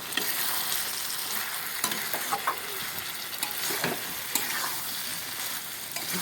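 Boiled jackfruit and potato sauté with spices in a pan, giving a soft, steady sizzle with intermittent scraping stirs of a spatula close by, and no talk.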